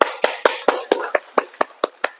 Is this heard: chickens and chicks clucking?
no